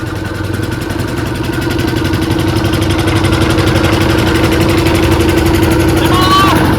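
A fishing boat's engine throbs steadily and loudly as the boat sets off on the Matla river, with voices talking over the constant chugging.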